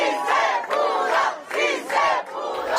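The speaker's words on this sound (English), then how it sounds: "Cheering fast food workers and labor leaders gathered around Governor Gavin Newsom as he signed the bill" Fast food workers and labor leaders cheer loudly around a governor at a minimum wage bill signing, a crowd roaring in repeated swelling waves of shouts and whoops, close and continuous.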